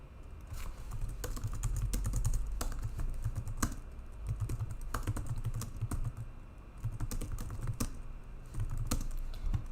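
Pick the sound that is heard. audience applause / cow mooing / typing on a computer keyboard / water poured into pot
typing on a computer keyboard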